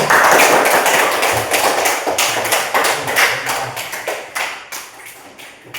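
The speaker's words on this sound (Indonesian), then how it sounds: "tepuk tangan dulu semua" A small group, apparently a class, claps together after a presentation, with individual hand claps audible as loose rhythmic taps that thin out and fade over several seconds.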